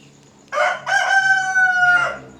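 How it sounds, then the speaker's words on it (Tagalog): A rooster crows once on a morning in the Philippines: a single loud, close, drawn-out call of about a second and a half, standing alone with no talk over it. "Yun ang sarap po dito sa Pilipinas, yung tilaok na manok."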